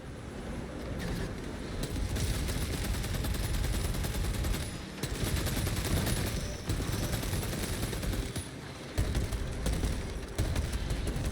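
Dense, continuous gunfire from Space Marine 2 combat, with loud overlapping bursts of rapid shots and brief dips between volleys.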